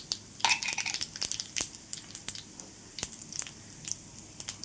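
Cumin seeds hit hot oil for a tempering, following mustard seeds, for a green moong chutney: a run of sharp, close crackles and pops over a soft sizzle, irregular and quick, with no talking.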